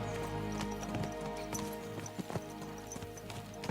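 Horses gallop in the Kingdom Come: Deliverance II video game, their hoofbeats a quick, uneven clip-clop close by over steady ambient background noise.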